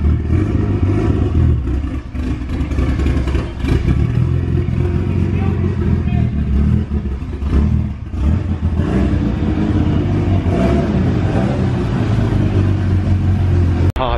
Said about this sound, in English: That Evo 8 sounds so good.